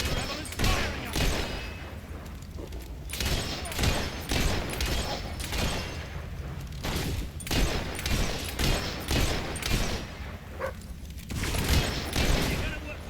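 Rebels fire guns in the fantasy video game Fable 3, sustained crackling bursts of gunfire and fusillade repeating through the scene with mechanical clatter, loud and busy throughout.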